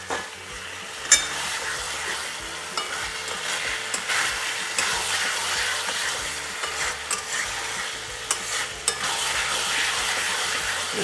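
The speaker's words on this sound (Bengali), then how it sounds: "কিমাটা কষে নেব।" Fatty minced mutton keema fries in a pan with a steady loud sizzle, broken by frequent spoon scrapes and stirring clatter, no voices.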